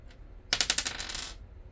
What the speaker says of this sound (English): And now I roll the dice to see which position I put that in.